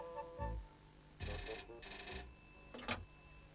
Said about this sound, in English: I'll phone Mayor Chambers.